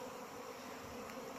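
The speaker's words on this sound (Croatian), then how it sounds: "pčele masovno izlijeću iz košnica" Honeybees pouring en masse out of hives on a March spring day after a harsh winter, producing a steady, low buzzing drone that stays even and faint with no voices.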